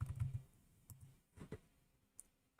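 Computer keyboard being typed on and clicked, a few scattered sharp clicks and short clusters of keystrokes with pauses between, close and quiet in a still room.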